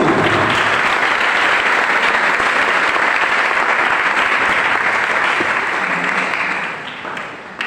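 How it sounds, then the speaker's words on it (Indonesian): Steady, dense applause from a youth gathering of the Manggala Division welcoming a presenter, loud and sustained throughout before tapering off slightly at the end. "Silakan tepuk tangan dari Korps"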